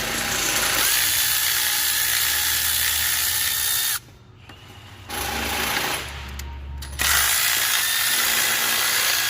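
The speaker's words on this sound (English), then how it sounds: "13 mil right here on this nut. Break it loose." A powered ratchet breaks loose and spins a 13 mm nut on a Ford Escape suspension during a CV axle teardown: loud, sustained mechanical whirring close up, broken by a few short pauses and then restarting.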